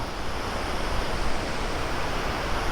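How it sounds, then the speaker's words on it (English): Roar of Victoria Falls and the Zambezi river rapids, a dense, steady broadband rush of falling and churning water heard at a distance, continuous and unbroken with no voices. "you get rapids leading into the falls"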